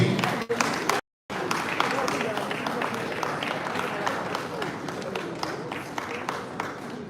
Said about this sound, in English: Let's put our hands together for him.